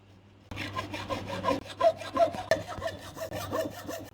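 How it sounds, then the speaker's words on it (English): Hacksaw blade rasping back and forth across a clothes hanging rail to start a small nick, a close, steady series of short scraping strokes with no talking. "So start by creating a little nick with your hacksaw."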